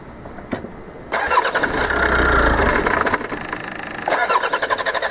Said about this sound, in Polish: idę spróbować zrobić test, czy nasz silnik jest w stanie nam zapalić